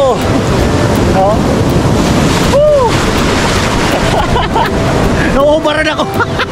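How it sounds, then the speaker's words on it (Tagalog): Large ocean waves surge at a beach in Daet, Camarines Norte, a loud, constant roar of surf with wind buffeting the microphone and people talking over it. "Yung alon ngayon, ang laki oh. Napakalaki ng mga agos dito."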